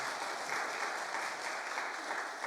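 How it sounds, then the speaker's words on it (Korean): A church congregation breaks into steady, lively applause, many hands clapping together at close range with no talking over it. "말도 안 끝났는데 미리 박수 치면 어떡해요?"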